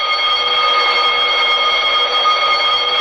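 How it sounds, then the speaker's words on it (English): A steady electric alarm bell rings continuously inside a stuck elevator in a radio drama, loud and unbroken with a bright buzzing tone throughout, no voices over it. "That's what this here alarm's for, you know."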